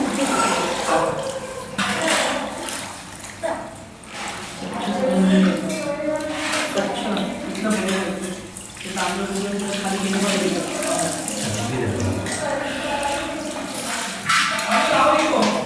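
Water gushes strongly from a tap at the Vireshwar temple in Mahad during festival meal preparations, a steady running rush heard beneath nearly constant nearby conversation and occasional clatter.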